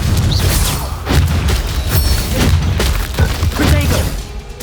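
Rapid spell blasts and booming impacts from a fight in the Hogwarts Legacy video game: a loud, dense run of explosive thuds and crashing bursts, one after another with no pause.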